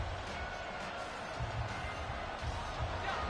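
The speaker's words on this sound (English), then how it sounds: "This crowd doing all they can." Football stadium crowd cheering and roaring at a steady, dense level throughout, a broad wash of massed voices with no single speaker standing out.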